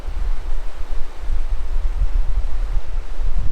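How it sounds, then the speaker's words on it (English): Strong, cold wind blows through a 13,000 ft Himalayan mountain village, a loud, steady low roar with gusting buffets against the microphone. "And the speed of the wind clearly shows how cold it could get."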